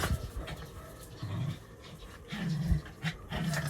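Dogs pant close by in quick, breathy bursts with short pauses between them.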